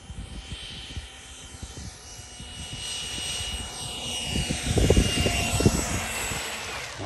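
A Freewing F-18 radio-controlled model jet with a 90mm ducted fan comes in to land outdoors, its whine sweeping in pitch as it passes nearby, with wind buffeting the microphone.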